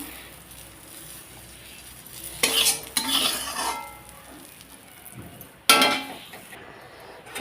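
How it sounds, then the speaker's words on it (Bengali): Chillies fry in oil in a kadai, a soft sizzle broken by sharp bursts of a metal spatula scraping and stirring the pan, close by. "আর একটু ভেজে নিয়ে আমি লঙ্কাগুলো না নামিয়ে নেব"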